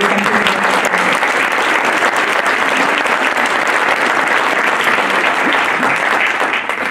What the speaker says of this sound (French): je vous demande d'applaudir le syndicat mixte